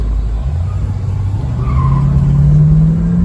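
A 1971 Ford Maverick with a 302 V8 accelerates hard onto a freeway, its engine note rising steadily in pitch and swelling louder toward the end, heard from inside the car with no talking.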